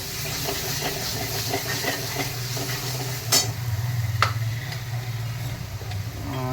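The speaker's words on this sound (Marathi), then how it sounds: "त्याला व्यवस्थित आता परतून घेऊ" Drumstick curry sautéing in a pan with chilli powder and turmeric, a steady close sizzle with soft scraping stirs and a couple of sharper clinks.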